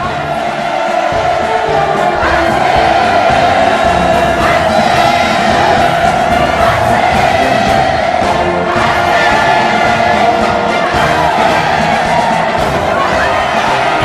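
Military families' crowd roars and cheers continuously as they enter a parade square at a North Korean civilian parade, a loud, dense wall of massed voices with shouts rising throughout.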